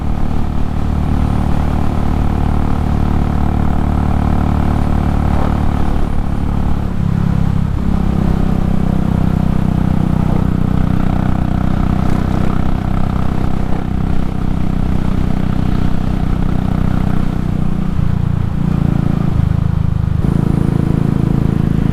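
A Royal Enfield Classic 500 single-cylinder motorcycle cruising at 110, with a loud, steady engine drone and thump plus heavy wind rush throughout, and slight shifts in pitch along the way.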